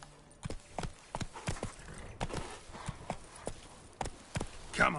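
Roach, a horse in the video game Witcher 3, trots with irregular, crisp hoof clops, close and moderately loud, with a faint snort near the end.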